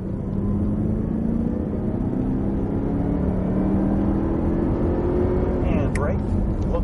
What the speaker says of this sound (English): back to power, and accelerate off the corner